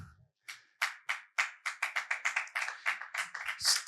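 An audience claps at an educational conference, a steady run of distinct, fairly close claps in an even rhythm with no talk over them.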